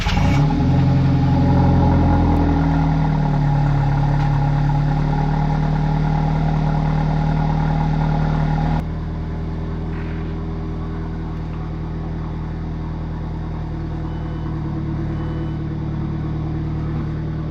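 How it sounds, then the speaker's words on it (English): An Alfa Romeo 4C engine fires on a cold start with a loud initial flare, then settles after several seconds into a steadier, quieter idle rumble, close by and with no talking. "Cold start."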